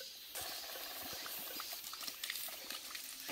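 Water gushes and bubbles in a mountain stream near Cheongnyong waterfall, a steady close rushing wash with small splashy bursts.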